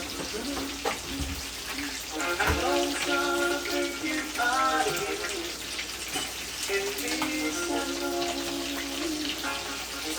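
Red snapper frying in a pan as part of a Jamaican dish with shrimp and coconut milk, a steady hissing sizzle that runs throughout at moderate loudness, with faint tonal background sounds and occasional knocks.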